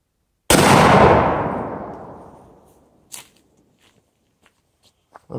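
A single sharp, loud 30-06 rifle shot cracks outdoors at a target, its blast decaying over about two seconds, followed by a few faint clicks and small knocks.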